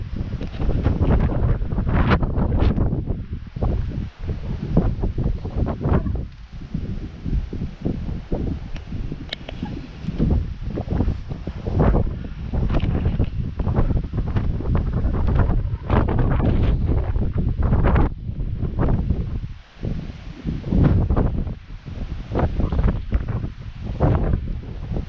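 Strong, steady wind roars across the microphone on a mountain trail, a loud continuous buffeting rumble with gusty swells and no pauses, close and dominating everything.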